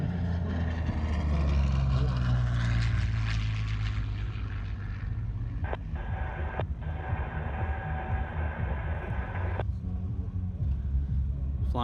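U.S. Navy Blue Angels jets at the Thunder Over Louisiana airshow: a loud, sustained jet roar that swells over the first few seconds and rumbles on throughout, with a few sharp cracks near the middle.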